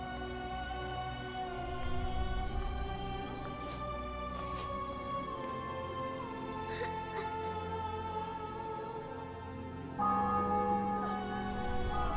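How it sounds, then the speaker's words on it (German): Church bells ring in The Witcher 2 video game, sustained overlapping tolls sounding in layers over a low ambient rumble, with a fresh stronger strike near the end. "Glocken"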